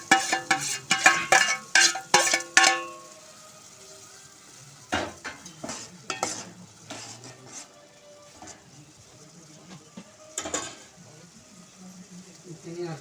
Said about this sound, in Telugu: వాటర్ మసలుతున్నాయి కదా, దీంట్లో మనం సేమియా వేసేసుకుంటాం.